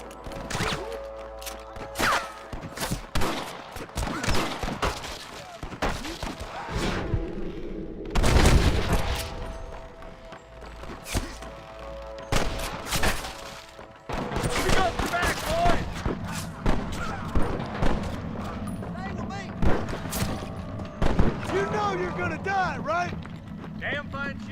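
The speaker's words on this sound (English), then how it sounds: "I can hear more gunshots." Gunfight in the Western video game Red Dead Redemption, with dense bursts of gunshots and booming fire crackling throughout amid game music and effects, while voices talk over the action.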